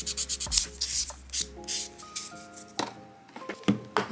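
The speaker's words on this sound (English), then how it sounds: "I buff my nail surface to prep it for the nail extension" A fingernail surface is buffed before a nail extension, heard as short, close rubbing and scratching strokes in an irregular rhythm, with a few light clicks of tools in between.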